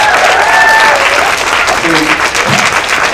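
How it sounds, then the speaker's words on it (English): A room full of people applauds, a dense wash of clapping that stays loud throughout, with a voice briefly audible beneath it. "they deserve a better round of applause than that we just did"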